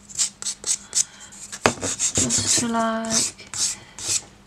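A fine buffer is rubbed over dip powder nails, making soft rhythmic rasping strokes close by, with someone speaking briefly partway through.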